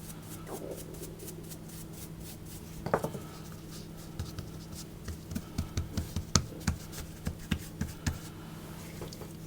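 Brush strokes sweeping loose flour off puff pastry dough on a work surface, a run of soft, rapid taps and rubs building toward the end, close and quiet over a steady low hum.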